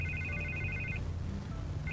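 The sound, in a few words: phone ringing in Batman Telltale Series video game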